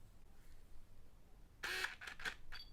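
A Pentax K-50 DSLR focuses as its shutter button is half-pressed: a quiet room, then a short run of soft whirring and clicking bursts from the lens motor, close up and brief.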